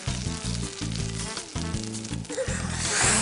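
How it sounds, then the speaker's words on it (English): Vegetables dipped in matzo meal or breadcrumbs crackle and sizzle steadily in a hot frying pan, a close, continuous fry with periodic low thumps and stirring. "Dip them in matzo meal or breadcrumbs and fry them till they're lovely and crispy"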